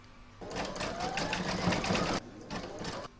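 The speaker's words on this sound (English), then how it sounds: "So next we're going to stitch round number 17 and that's going to do the eyelets." An embroidery sewing machine stitches eyelets on an owl hair barrette, a close, rapid mechanical whirring that runs steadily, pauses briefly, then resumes for a short burst.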